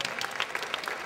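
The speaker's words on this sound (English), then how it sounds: "One more round of applause for Lynette and Peter." A brief burst of audience applause at a dinner event for Lynette and Peter, dense clapping for about a second.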